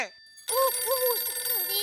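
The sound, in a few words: phone ringing with incoming call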